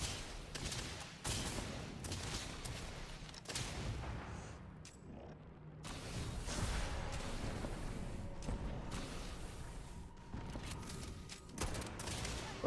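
Heavy-recoil weapon firing in a space video game, booming shots spaced a few seconds apart, each with a rumbling tail, moderately loud.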